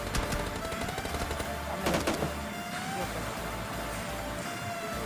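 Gunfire in the mobile shooter PUBG Mobile Lite, with rapid automatic bursts over a constant game background hum, a denser cluster of shots partway through, fairly faint overall.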